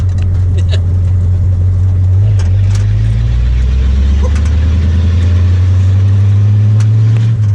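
A 1935 Ford rolls along with a loud, steady low engine drone heard from inside the car, the pitch shifting slightly as it drives, while people talk over it.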